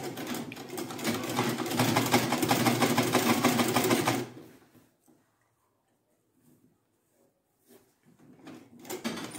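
A sewing machine stitches fabric for an autogele head tie, running steadily and loud for about four seconds, then stopping to near silence before a short burst of stitching resumes at the end.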